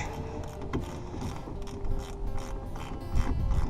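A nut is tightened on the sway bar of a 1969 VW Beetle, with quick ratcheting clicks and metallic rattles close by and no speech.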